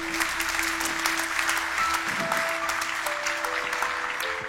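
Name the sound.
audience applause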